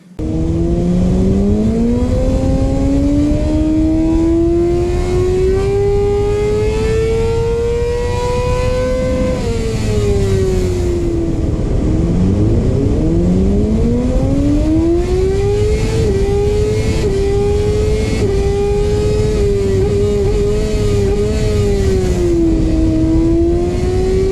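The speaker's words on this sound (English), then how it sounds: "And it's got a decent muffler on this one, so it's not too loud. It sounds great actually" Suzuki GSX-R600 motorcycle with an M4 full exhaust system, muffler and performance filter, revving loudly and close in long rising and falling sweeps, engine pitch climbing and dropping repeatedly.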